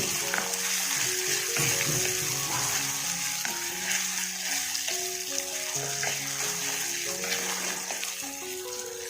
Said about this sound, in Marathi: तेलामध्ये आपल्याला हे सर्व व्यवस्थित भाजून घ्यायचं आहे